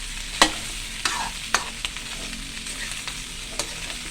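Duck sautéing in a pan with onion, garlic and chili: a steady sizzle with several sharp spoon scrapes and taps against the pan, close and fairly loud, no talking.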